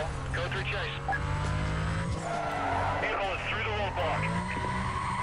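Car tires screeching and skidding as the car spins out at speed in Need for Speed Most Wanted, with a continuous engine roar and squeal throughout, a voice talking over it.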